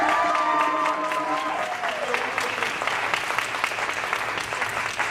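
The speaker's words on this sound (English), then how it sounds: "Can we give them another round of applause?" An audience claps loudly at an annual candle lighting event, dense continuous applause with a brief sustained musical tone or voice fading out early, the clapping carrying on evenly to the end.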